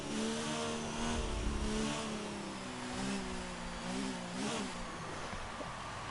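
An F1 race car engine in the F1 2019 video game revs steadily and loudly, its pitch rising and falling in a sustained whine with no talk over it.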